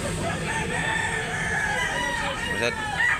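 A large rooster crows amid a busy, noisy setting, with a long drawn-out call over steady background din and people talking nearby.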